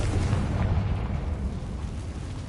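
A fiery Confringo spell explosion in Hogwarts Legacy, a loud rumbling boom with sustained low-end roar that stays dense and heavy before tapering slightly.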